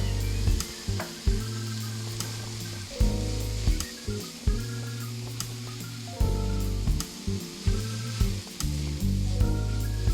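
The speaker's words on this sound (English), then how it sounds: "In goes garlic." Garlic hits a hot pan for Spanish paella, sizzling steadily beneath repeated low, rhythmic thumping bursts that recur every second or so throughout.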